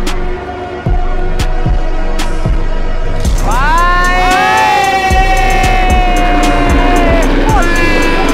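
A large crowd at a MotoGP race roars and cheers loudly and continuously while racing motorcycles scream past, their engine notes rising and falling. Sharp ticking clicks sit on top of the dense roar.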